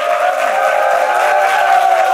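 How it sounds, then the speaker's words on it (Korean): An audience of a televised lecture show with soldiers present breaks into applause after a talk, a dense steady wash of clapping with no distinct claps standing out, loud and continuous with no speech. "박수 한번 크게 다시 한번 부탁드리겠습니다"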